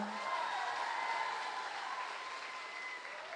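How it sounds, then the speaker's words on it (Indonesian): A steady wash of crowd applause at a regional arts and culture performance event in West Sumatra, fairly even and slightly distant, tapering a little toward the end. "Berikan aplaus tepuk tangan untuk SMK Negeri 8 Padang"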